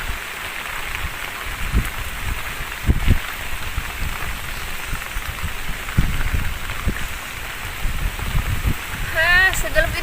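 Heavy rain pours steadily on a bamboo shelter at a mountaintop solo camp during a storm, a dense continuous hiss with scattered low thumps and gusts, and a brief chirping sound near the end.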